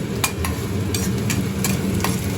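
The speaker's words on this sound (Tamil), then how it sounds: "ஸோ இப்போ ஆனியன் நல்லா ப்ரௌன் ஆகுற வரைக்கும் நல்லா வதக்கிட்டே இருக்கணும்." Onions stirred and sautéed in a pan until browning for a quick chutney, with a steady close sizzle and a few sharp scraping strokes of the spoon at a loose rhythm.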